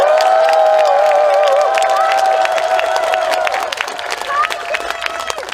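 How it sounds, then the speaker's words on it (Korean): A large crowd at a speech event claps and cheers loudly, the dense applause carried under a sustained tone that fades after a few seconds. "박수를 한번 쳐주십시오."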